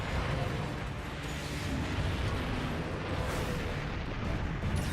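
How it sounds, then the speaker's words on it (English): The Deviant Diablos in Monster Hunter XX lets off a steam explosion, a dense, loud rumbling blast that holds as a sustained roar for several seconds, with no voices over it. "after doing a steam explosion, the Diablos will always do a taunt"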